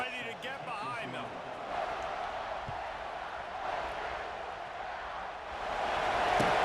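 A stadium crowd roars at kickoff in the video game EA Sports College Football 26, a broad steady rumble that swells near the end, with scattered thuds and an announcer speaking over it.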